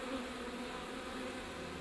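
Honey bees buzz in a continuous, even drone, soft and steady throughout, with no voices.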